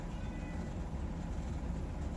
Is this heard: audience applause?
no